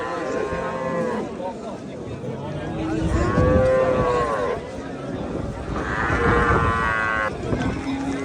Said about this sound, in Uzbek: Rasa sut yo'nalishidagi sigir bo'ladi-da.